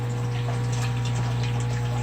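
A fish-room aquarium filter circulates tank water with a steady low mains hum and a constant soft trickling wash, close and continuous, with no voices.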